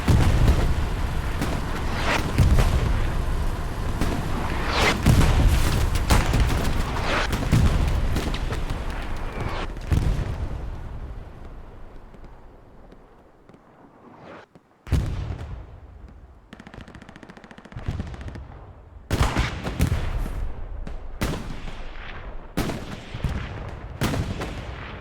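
Two soldiers armed with 76s pop away with rapid gunfire in a competitive video game match, with loud bursts of shots and booms that fade briefly, then return in sharp repeated volleys.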